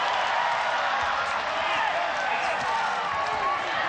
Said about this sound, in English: This crowd going nuts for Tiffany Teo every time she drives the knee into the face of Meng Bo.